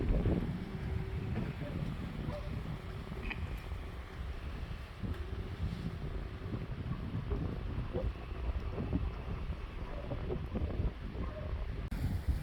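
Steady wind gusts and rumbles across the microphone on a beach, a continuous low roar with faint background sounds.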